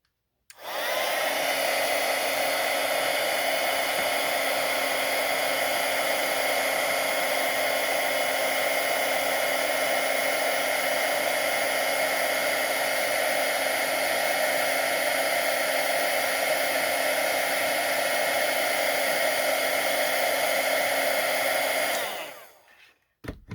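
Heat gun embossing an ornament card, a loud steady fan-driven whoosh with a fixed whine that runs continuously for over twenty seconds and then cuts off abruptly.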